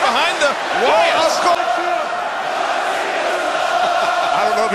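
Arena crowd at WWE Raw after WrestleMania chanting in a rhythmic, sustained roar from a packed audience, with commentators talking over it.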